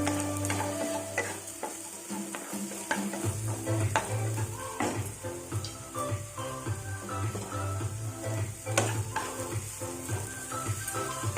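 Eggplant, capsicum and carrots being fried and stirred in a pan for a vegetable thali, a steady sizzle with repeated scraping and clinking of the spatula against the pan.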